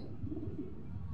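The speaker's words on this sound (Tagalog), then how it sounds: "may pauwi tayo yung pang 5 ibon natin na si Baliling" Low, soft cooing from a homing pigeon just back at its home loft after a three-lap sprint race, rumbling along steadily and fairly close.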